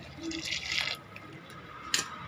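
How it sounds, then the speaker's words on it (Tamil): Heated water poured into a pot of foxtail millet rice for tomato rice, a short splashing pour followed by a few faint drips and a light clink at the end, heard up close. "இப்போ இந்த சூடு பண்ணதை வச்சு தண்ணியை ஊற்றிக்கலாம்."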